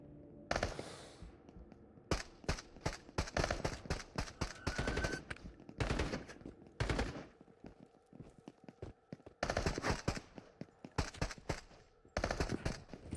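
Bursts of automatic gunfire in the VR shooter Into The Radius, rapid volleys broken by short pauses, fairly close and loud with no talking.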